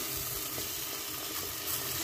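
Jute leaves going into a pot of cooking curry with boiled jackfruit seeds over slightly-above-low heat, giving a steady soft sizzle and faint stirring throughout, no voices.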